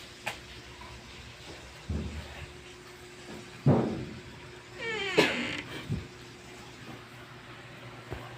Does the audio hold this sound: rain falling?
no